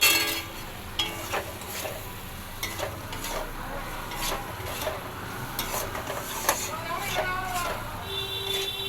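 Soybean mixture with flour stirred in a pan, with soft irregular scraping strokes and a light sizzle, close by, while a voice talks over it.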